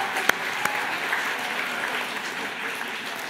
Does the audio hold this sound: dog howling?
no